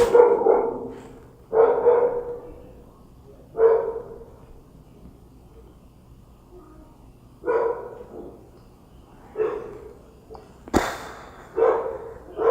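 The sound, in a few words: dogs barking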